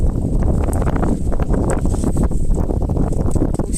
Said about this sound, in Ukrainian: ну вітер дуже. Прямо бурхає такий.